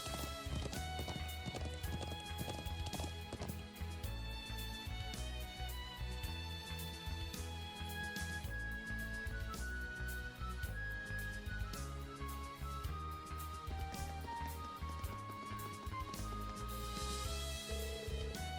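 A horse gallops in the video game Trails of Cold Steel 3, with steady rhythmic clip-clop hoofbeats running under a loud, dense orchestral score throughout.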